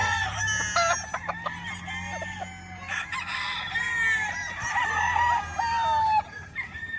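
Pure white Kelso gamefowl roosters and young bull stags on a farm crow and cluck, with overlapping cock-a-doodle calls and excited clucking from several birds, fairly loud and close over a steady low hum.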